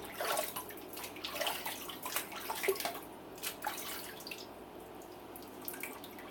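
A safety razor loaded with a Shark double-edge blade is rinsed under running water, a soft splashing and dripping stream with small uneven spatters, heard close and alone.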